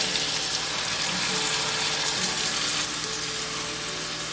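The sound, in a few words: tomato puree added to sautéing onion, capsicum, zucchini, sizzling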